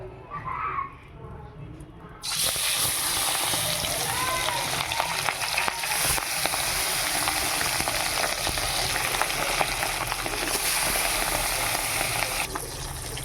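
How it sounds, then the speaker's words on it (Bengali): Fish sizzle loudly as they are slipped into hot oil in a pan, a dense continuous frying hiss that starts abruptly and carries on steadily, with faint children's voices in the background. "এখন আস্তে আস্তে মাছগুলো ছেড়ে দেবো"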